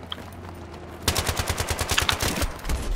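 Rapid automatic gunfire in Battlefield 3 played through the Venice Unleashed mod, a sharp burst of evenly spaced shots starting after a quiet second and running loud and close to the end.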